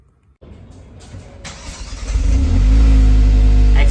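A 2024 Hyundai Alcazar petrol engine turns over and climbs into a loud rev through its dual exhaust, rising from a quiet start to a sustained, close roar with no voices.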